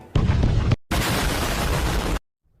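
Two loud, roaring explosion blasts from explosive clay in the Naruto anime, the first short and heavy, the second a longer sustained rumble that cuts off abruptly into silence.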